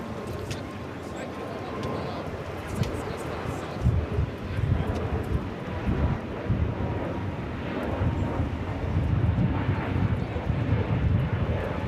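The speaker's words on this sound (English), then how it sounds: "This is United Airlines 1260 taking off to Denver on the A321neo." A United Airlines A321neo takes off from LAX bound for Denver, a broad jet roar that builds and churns from a distance under gusty wind noise, with people chatting nearby throughout.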